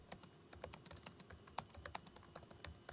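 Rapid, uneven typing on a computer keyboard, a dense run of close, crisp key clicks with an occasional louder keystroke, heard alone without any talk.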